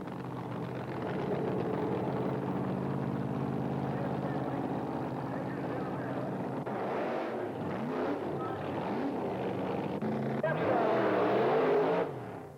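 A 1980s drag racing pickup truck powered by a big block Chevrolet with a Lenco transmission roars steadily at close range, its engine swelling louder near the end, with a commentator talking over it throughout.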